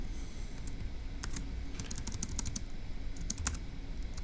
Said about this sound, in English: So let me go ahead and type that up in our notes in section B.